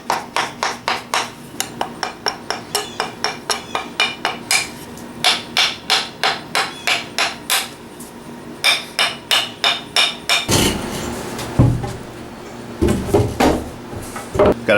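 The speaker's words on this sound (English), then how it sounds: "you can use kind of the edge of your hammer here, just kind of break up those fibers" Steady rhythmic hammer blows striking a wooden Japanese chisel handle, a long run of sharp evenly spaced knocks, then a pause and several heavier irregular strikes, close by.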